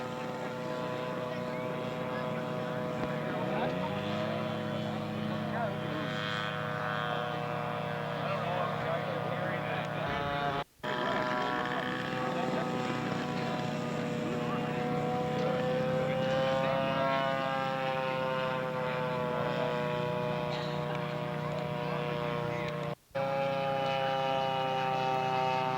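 Model scale aircraft flying at a scale competition, a steady propeller-engine drone with shifting pitch as the plane moves around, continuous and fairly loud, with faint voices underneath.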